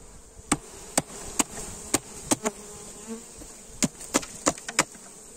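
Honeybees buzz in a steady high hum at a first spring hive inspection after winter, with sharp clicks and knocks of hive parts at irregular intervals close by.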